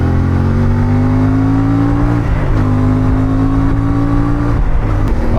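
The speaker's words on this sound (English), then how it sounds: "when you get on that throttle, that exhaust sounds just beautiful" A CF Moto 450MT motorcycle exhaust revs loudly and continuously as the rider accelerates two-up, engine pitch climbing steadily with brief dips at gear changes, close and unbroken throughout.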